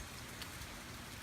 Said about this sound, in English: We've had some really good rain squalls, some wind.